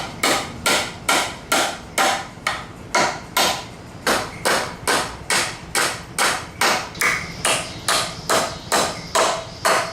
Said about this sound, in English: glue and tack it back on to the new board